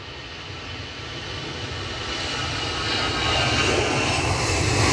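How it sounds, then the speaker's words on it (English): A JetBlue airliner on final approach to Edinburgh Airport on a windy day, its engine drone rising steadily from moderate to loud as it draws nearer, alone without talk. "Thank you, Cabo, for alerting me to JetBlue turning in on final approach"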